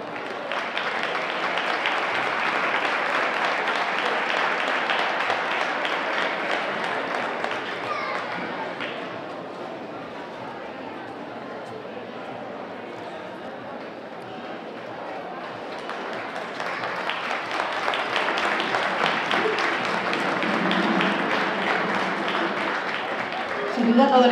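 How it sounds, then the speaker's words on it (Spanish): Sustained applause from the audience at a municipal summer band concert in Cabeza del Buey, loud and dense, easing off midway before swelling again to a full, steady round of clapping. "le recibimos con un fuerte aplauso."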